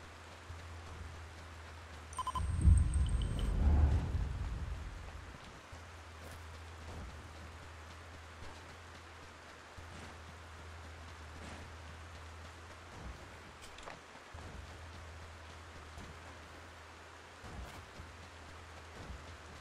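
A steady hiss of rain falls in the Ring of Elysium battle royale game, broken early by a deep, rumbling thunderclap that swells and fades over a few seconds before the soft rain continues alone.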